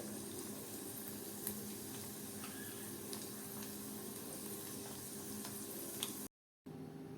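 Methi muthiya deep-frying in oil over a low flame, a faint, steady bubbling sizzle with occasional soft pops that carries on evenly and briefly cuts out near the end.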